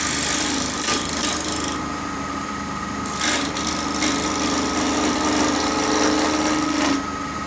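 A bowl gouge cuts wood on a lathe as a triangular box is turned, a continuous scraping hiss with brief louder bursts of cutting, close and steady with no talk.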